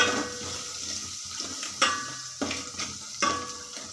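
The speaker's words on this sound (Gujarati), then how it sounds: "લીલા મરચાં એડ કરીશું. લસણ એડ કરીશું. હળદર એડ કરીશું. બધું મિક્સ કરી દઈશું." A spoon scrapes and stirs green chillies, garlic, turmeric and asafoetida in oil in a pan, with steady sizzling underneath and several sharp metallic clinks against the pan, close up and moderately quiet.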